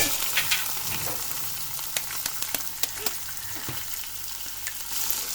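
Beaten eggs fry in a pan with a continuous close sizzle, and a utensil scrapes and stirs them in irregular clicking strokes.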